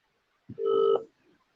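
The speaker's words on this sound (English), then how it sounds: "I'm ringing him now, by the way, Rich." Touch-tone dialing on a telephone while placing an outgoing call. It is a short, clean tone burst, close and moderately loud, with a faint click just before it, and quiet follows.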